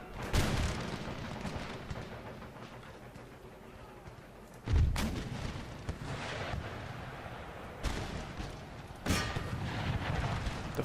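Artillery cannons fire in the Empire Total War strategy game, sharp booms arriving one after another at irregular intervals over a rumbling battlefield background.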